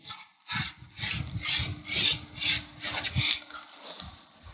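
Chalk and a scale scrape across a classroom blackboard as lines are ruled for an engineering drawing. The strokes come as a rhythmic series of about ten close, loud rubbing passes with no talking.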